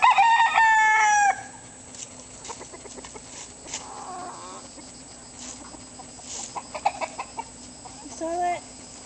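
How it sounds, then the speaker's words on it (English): Roosters crowing loudly up close at the start, followed by scattered chicken clucks and calls in a farmyard, with people talking faintly in the background. "there's some of these roosters that are not real friendly."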